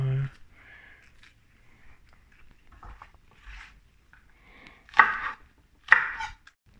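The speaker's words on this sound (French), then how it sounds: "Pour le radis daikon, je vais vous couper ça en petites frites comme ça, des petites juliennes." A knife cutting daikon radish into julienne strips on a board, a few sharp chopping strikes standing out near the end over quiet background, with faint talk early on.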